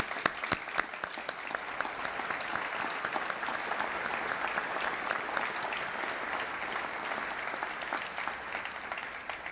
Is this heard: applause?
yes